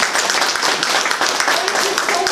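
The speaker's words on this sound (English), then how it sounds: "Can we clap for something?" Applause fills a board of education meeting: a dense, steady patter of many hands clapping together, close and continuous throughout, with a few voices mixed in beneath the clapping.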